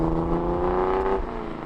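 A 1978 Datsun 280Z with custom stainless steel short-tube headers and a 15-inch resonator revs steadily, its engine note rising slightly before easing off, loud and close with no one talking.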